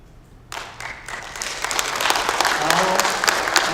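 Congregation applause in an Ethiopian Orthodox Tewahedo church gathering, breaking out abruptly after a quiet moment and swelling into steady, dense clapping from many hands that builds and holds.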